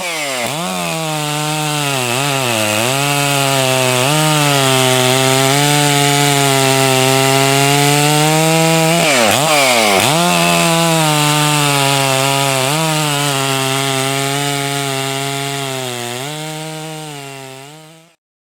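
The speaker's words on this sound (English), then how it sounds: "Now we're getting into harder wood too, so it's a better comparison between the two saws" Stihl MS461 and Husqvarna 372XP chainsaws, both fitted with HyWay cylinders, cut through hard wood, with a loud, steady high-revving whine that bogs and recovers under load and then dies away at the end.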